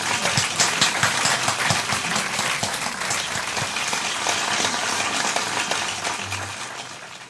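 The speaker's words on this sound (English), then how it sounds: "Some French applause, please," A crowd applauds after a song performance, a dense, loud and continuous roar of many hands clapping that holds steady for about seven seconds before easing slightly at the end, with no voices over it.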